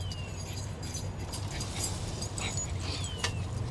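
Stray desert dogs give a few thin whines and yips at moderate distance, scattered over soft rustling and background noise.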